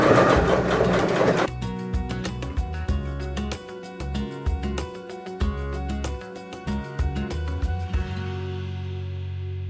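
Sewing machine stitching a seam on a colour-block gown, starting with a short burst of broadband noise, then a fast, rhythmic mechanical chatter of stitches in close, loud runs with brief pauses, ending in a fading hum.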